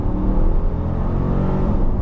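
A 2025 Dodge Durango R/T with its 5.7 HEMI V8 produces a continuous, loud, throaty exhaust drone held at steady revs, close and alone without talk.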